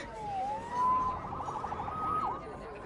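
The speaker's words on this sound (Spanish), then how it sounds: "Salvado por la sirena." A police siren wails in the video game Spider-Man PS4, a single gliding tone rising and falling at moderate distance over a low city rumble, with a brief warble near the end.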